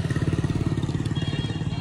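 A motorcycle rides past close by on a town street, its engine making a steady low pulsing throb that holds loud for the whole stretch.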